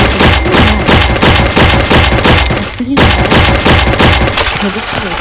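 Rapid gunfire from a coded weapon in a shooter video game, loud and continuous bursts of shots with a brief pause near the middle before firing resumes, with game sounds mixed in.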